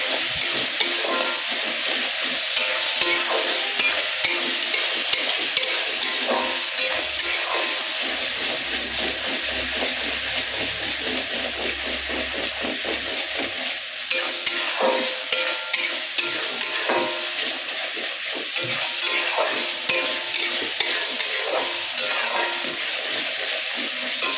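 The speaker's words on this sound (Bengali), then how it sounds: "এটা ভালো করে কষাতে হবে" Katla fish curry stir-fried in a pan, a steady loud sizzle with repeated scraping and clinking of a spatula, continuous through the clip without any talking.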